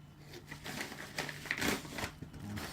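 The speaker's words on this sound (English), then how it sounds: "Let's unwrap it." Wrapping on a Peterson pipe crinkles and rustles in irregular bursts as it is unwrapped up close, with a quiet voice now and then.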